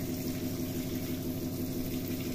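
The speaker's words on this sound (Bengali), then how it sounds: "জল দিয়ে দিই।" Water running steadily from a kitchen tap while cooking at home, a close continuous gushing stream with a low constant hum underneath.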